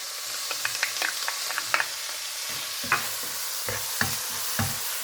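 Onions fry in a pan for a seafood risotto, a constant soft sizzle with occasional scraping stirs and light clinks of a utensil against the pan, close and without talk.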